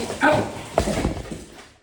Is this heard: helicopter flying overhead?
no